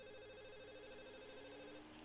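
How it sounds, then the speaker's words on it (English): A landline telephone ringing in the visual novel Katawa Shoujo, a steady warbling electronic trill, faint and continuous, with no talk. "That's the ring of a phone, a phone in how it's called, not a cell phone."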